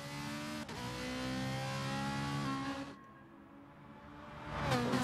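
Race cars in a racing video game launch off the starting line on the Tokyo Expressway Central Outer Loop, engines droning and climbing in pitch through the gears, loud and close, then briefly fading before another surge of revving.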